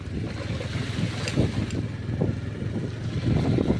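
A boat moves across a large reservoir, with a rumbling engine drone and splashing water mixed with strong wind buffeting the microphone, close and fairly loud throughout.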